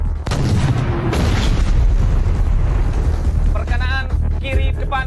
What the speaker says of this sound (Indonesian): Laksanakan tembakan penilikan. Awas. Awas. Tembak.